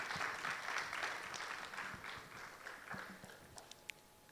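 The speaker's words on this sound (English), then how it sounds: "With a round of applause, ladies and gentlemen, let's welcome Kathleen." An audience at a gender summit claps to welcome a speaker, loud at first and then gradually thinning out into scattered claps.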